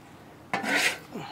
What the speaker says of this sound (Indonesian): Kita kena goreng dia terus menerus supaya dia tak hangit dan masak sekata.